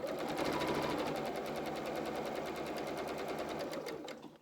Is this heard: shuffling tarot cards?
no